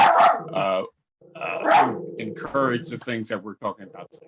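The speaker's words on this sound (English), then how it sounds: "sorry for my dog in the background" A dog barks in the background of a presentation on supporting LGBTQ+ youth, several short barks mixed in with a person's nearby speech.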